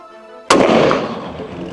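A single sharp gunshot from a Howa 1500 Superlite lightweight hunting rifle cracks loudly out of near silence, followed by a long rolling echo that slowly fades.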